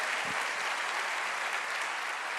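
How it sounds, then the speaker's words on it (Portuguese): Church congregation applauding during a sermon, a steady, dense wash of many hands clapping that holds evenly throughout, fairly distant and uniform. "Pode aplaudir o Senhor?"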